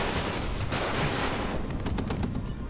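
Units in the WARNO war video game keep up dense, continuous gunfire and distant rumbling explosions, a loud unbroken barrage with some sharper bursts toward the end.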